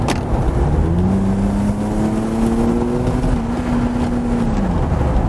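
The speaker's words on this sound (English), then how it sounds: "it's a straight six and it's a very nice sound. It just makes a nice wee rumble." A Mercedes 300 SL R129's straight-six engine hums with a low rumble, its pitch climbing steadily as the car accelerates, then dropping off near the end amid road noise.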